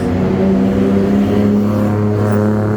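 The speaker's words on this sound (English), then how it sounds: "Tuk-tuk again." A tuk-tuk engine passes on a busy Bangkok street, its loud, steady motor drone close by and filling the whole moment, with no one talking.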